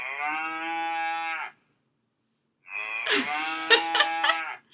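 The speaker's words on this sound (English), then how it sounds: "Yes, that was a cow, right?" A cow moos twice with long, loud, clear calls separated by a short silence; the second moo is rougher and breaks up toward its end.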